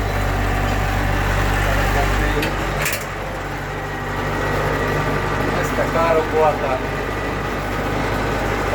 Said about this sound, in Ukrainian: однорядної копалки з трактором хата 504